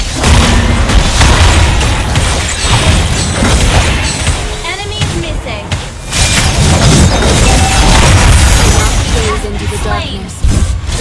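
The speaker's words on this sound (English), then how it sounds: "Your team destroyed a turret." Dense, loud battle noise in the mobile MOBA Mobile Legends as a turret is destroyed, with layered booms, crashes and skill effects that continue throughout. An announcer voice speaks over the mix.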